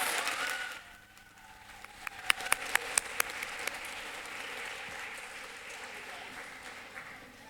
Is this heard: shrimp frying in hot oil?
no